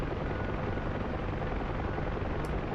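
A Huey helicopter in the DCS flight simulator, its rotor and engine making a steady, dense, loud drone that fills the whole stretch without a break.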